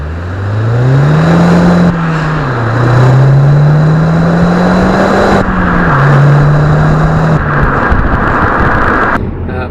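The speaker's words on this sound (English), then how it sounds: "The exhaust though is awesome as well. It's like a really raspy type note." A Vauxhall Corsa VXR engine revs hard through several gear pulls, its raspy exhaust note climbing, dropping at each shift, then climbing again, loud and close.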